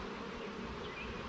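Honey bees buzz inside a hive in a faint, continuous droning hum with no talking over it.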